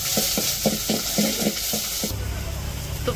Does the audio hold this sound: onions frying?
yes